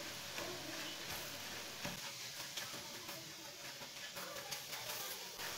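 Semolina (suji) roasting in a pan for carrot halwa gives a quiet, steady sizzling hiss, broken by light scraping strokes as it is stirred close by.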